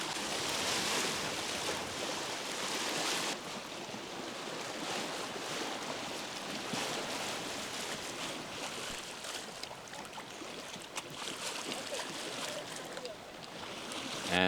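Sailboat moving through water on an evening sail, with a steady wash of water and wind noise throughout, a brighter rushing passage at the start, and no clear voices.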